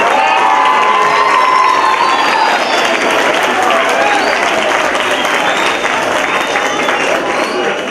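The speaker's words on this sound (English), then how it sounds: "Yes, give them a round of applause." A crowd at a performance event bursts into loud, sustained applause mixed with cheering and children's shouts, a dense roar that stays strong throughout and eases slightly at the end.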